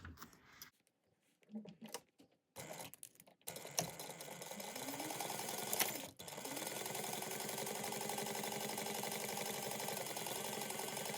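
A sewing machine runs continuously, basting fabric panels together for a bag, after a few short bursts and pauses of stitching at the start; the motor hum is steady and close.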